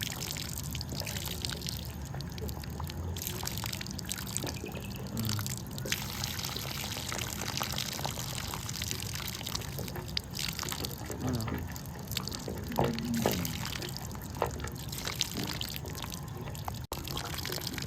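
Water rushes from a newly connected tap that had been clogged with sand and runs muddy, a steady broadband gushing with small splashes, moderately quiet, with occasional voices nearby.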